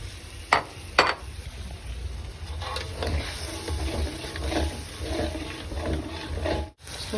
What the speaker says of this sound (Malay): Masukkan air rebus